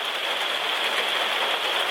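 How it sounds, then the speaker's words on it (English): Rain falls on a camper, a dense, even hiss of drops drumming on the roof, steady and close throughout with no voices. "we're experiencing our first rain"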